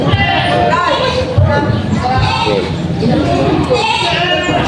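Goats bleating on a farm, several loud, close wavering calls overlapping one another throughout, with people talking among the animals.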